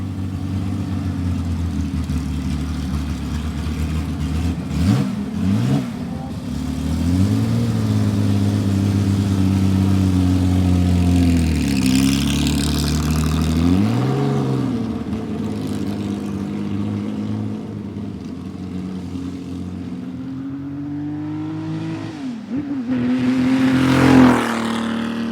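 A British-chassis Elva race car with a Porsche engine idles and then revs hard in repeated rising and falling sweeps, close and loud, before accelerating and pulling away, with no talking.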